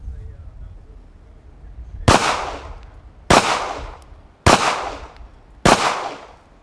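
Four sharp, loud shots from a Smith & Wesson M&P 9mm pistol fired at a bottle target outdoors, spaced about a second apart, each with a short decaying tail.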